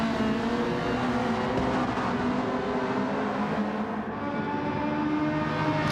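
A Ferrari race car in Gran Turismo 7 runs hard in a BTCC replica league race, a steady dense engine drone with other cars close by, continuous and loud with no break.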